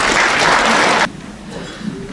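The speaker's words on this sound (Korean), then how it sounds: "큰 박수로 맞이해 주시기 바랍니다" A burst of clapping from the audience at a literary award ceremony, dense and close, then it cuts off abruptly partway through, leaving a quiet room.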